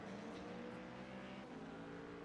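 Race car engines droning in the iRacing simulator during a GTD-class race, a continuous tonal engine hum with shifting pitch as a car comes through, fairly steady and unbroken.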